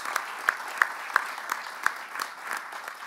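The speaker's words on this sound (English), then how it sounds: "They deserve as well our own applause." At the CARPHA launch ceremony, an audience gives brief applause: a modest patter of claps with a few sharp, distinct hand strikes standing out, fairly quiet and fading after about three seconds.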